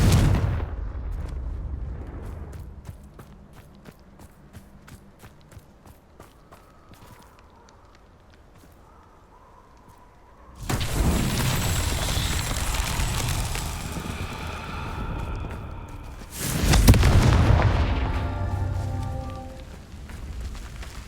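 Confringo blasting spell explosions in Hogwarts Legacy, two loud roaring bursts with rumbling debris, each following quieter crackling clicks and scattered game sounds.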